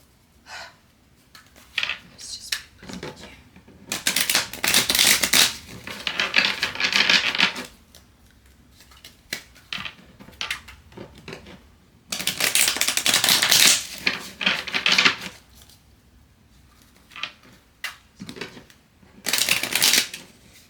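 Playing cards shuffled repeatedly: bursts of crisp rapid riffling, each a few seconds long, separated by quieter handling and soft rustling.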